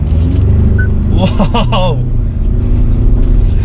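Ford Endeavour launched at full throttle on an off-road track, a loud rumbling engine roar building under steady revving, with someone talking over it partway through.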